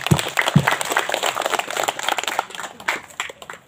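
Applause from an audience at an Indonesian political gathering with a PKS member of DPR RI Commission IV, steady mid-level clapping with crisp individual claps, continuing for several seconds before thinning out.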